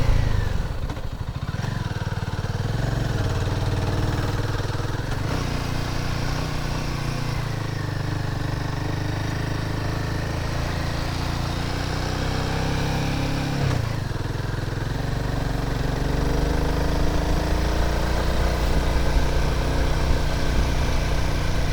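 A Royal Enfield Himalayan 450 motorcycle labouring up a steep road, its engine droning steadily and loudly under heavy load without letup, close by and alone.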